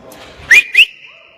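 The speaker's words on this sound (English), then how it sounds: "Sorry, I had to whistle." A person gives a loud two-note whistle at close range, two sharp rising bursts followed by a long held tone that fades out, heard alone.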